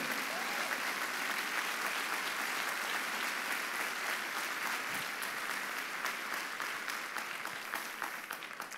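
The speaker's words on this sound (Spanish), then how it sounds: "Denle un aplauso fuerte." A church audience applauds steadily after a preacher's call during a sermon, a dense, sustained wash of many hands clapping that fades slightly toward the end.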